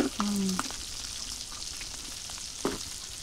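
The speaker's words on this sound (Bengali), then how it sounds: "দেখেন ডিমগুলো আলাদাভাবে ভাজিয়ে নিতে হচ্ছে" Hilsa fish roe fries in a pan with a constant crackling sizzle, broken by a few sharp metallic scrapes and clinks of a utensil stirring nearby.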